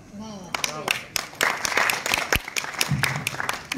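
Audience clapping at a golden jubilee musical evening concert, a steady wash of applause with sharp individual claps throughout, fairly loud and close, with a brief burst of talk at the start.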